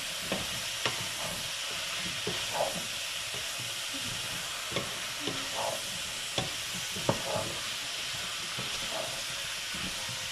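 Squash is stirred into a simmering vegetable soup, a steady hissing bubble with soft scraping knocks and a few clicks from the spoon, close and moderate, without speech.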